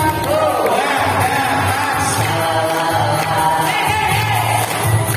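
A crowd applauds steadily and loudly, with scattered cheers and whoops rising through the sustained clapping.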